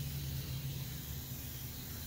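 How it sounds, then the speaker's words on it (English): Quiet, steady hiss of BT insecticide being sprayed from a garden sprayer nozzle onto brassicas, continuous and even, with a low hum underneath. "So yeah, I'm just gonna spray."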